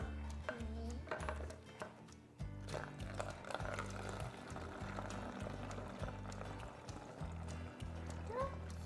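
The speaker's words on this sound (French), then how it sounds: "On va verser ça dedans." Homemade household cleaner poured into a spray bottle in a kitchen, a steady trickling flow, near and fairly quiet, accompanied by low rhythmic music and a few light clinks.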